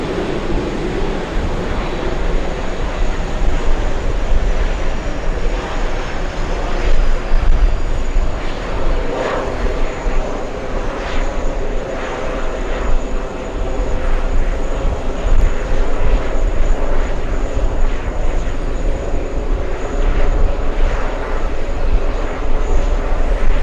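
Lufthansa airliner engines at an airport give off a loud, steady roar and whine that hold for the whole stretch, with broad rumbling noise and no clear voices over it.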